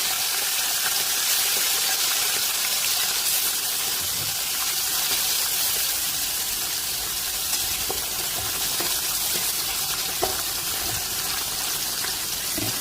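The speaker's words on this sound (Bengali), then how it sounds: "তেল ভালো মতন গরম হয়ে গেলে আমি মাছগুলো ভেজে নেব" Koi fish frying in a pan of hot oil, a steady dense sizzle with crackling and popping that runs continuously and loudly throughout, with no talking.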